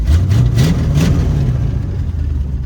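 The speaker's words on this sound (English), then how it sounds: "It's been about 15 minutes of just sitting here idling." A 1970 Ford Mustang V8, long abandoned and revived, rumbles loudly and close, a deep steady idle with a few brief rising blips early on before settling into an even low drone.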